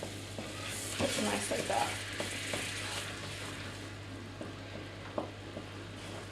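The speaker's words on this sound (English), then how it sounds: "So we're just going to get this butter to melt." Butter melts and sizzles in a hot wok, a steady crackling fry with occasional stirring scrapes and a low background hum, while a person speaks briefly.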